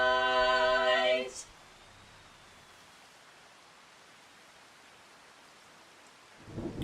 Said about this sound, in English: The sound of rain? You can leave it on all night and it'll put you to sleep.